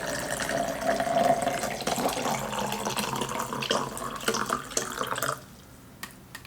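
Filtered water pours steadily into a Brita pitcher, a continuous close splashing stream that stops abruptly near the end, leaving a few faint drips and clinks.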